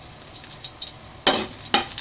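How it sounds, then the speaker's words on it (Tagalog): Garlic sautéing in a pan for homemade pork kare-kare, a low background sizzle broken by two loud bursts of hissing frying as the pieces are stirred. "Magigisa muna tayo ng ating bawang."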